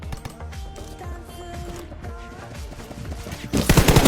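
Gunfire in the mobile shooter Peacekeeper Elite comes as a steady run of rapid automatic shots under game music, then swells into a louder, denser burst at the end.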